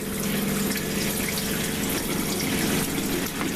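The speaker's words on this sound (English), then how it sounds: "I'm going to turn the faucet on. So it's pulling water through, or antifreeze through both the" Faucet running aboard a boat, drawing antifreeze through the water pump into a pressure accumulator; a steady, close rush of flowing liquid with a pump hum underneath, continuous for the whole stretch.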